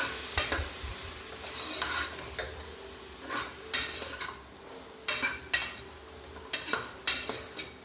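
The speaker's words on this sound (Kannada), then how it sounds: "ಚೆನ್ನಾಗಿ ಇದನ್ನು ಕೂಡ 2 ನಿಮಿಷ ಹೈ ಫ್ಲೇಮಲ್ಲಿ ಇಟ್ಕೊಂಡು ಫ್ರೈ ಮಾಡ್ಕೋಬೇಕು" Amaranth stem sambar mixture frying on high flame, a soft hiss broken by regular spatula scrapes and taps against the pan, close and rhythmic.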